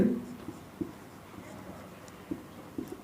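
Numbers are handwritten with a pen, heard as faint, sparse taps and light scratches against a quiet room background.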